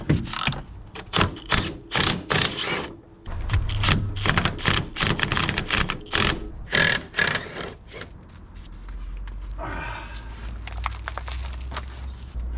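Bolts and nuts being worked loose from the front suspension of a Camaro, a run of sharp ratcheting clicks and metallic clanks in close bursts, pausing and resuming, with a low hum underneath.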